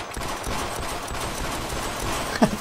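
Rapid continuous turret fire in the video game Sven Co-op, a dense, steady rattle of automatic shots heard close and loud for the whole moment, with no talking.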